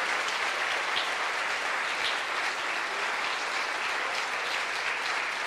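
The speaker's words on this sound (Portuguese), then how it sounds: "Vamos dar uma salva de palmas para Jesus" Steady, dense applause from a church congregation at a healing crusade, clapping for Jesus, an even wash of many hands with no pauses, heard at a moderate distance.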